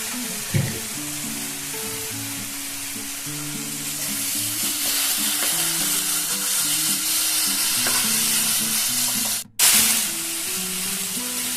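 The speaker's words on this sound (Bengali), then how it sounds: "দেখুন খুব সুন্দরভাবে আমার এটা ভাজা হয়ে গেছে" Soaked soybean chunks fry in a pan for chilli soybean, a steady sizzle with stirring scrapes throughout, a brief cut near the end, and soft background music underneath.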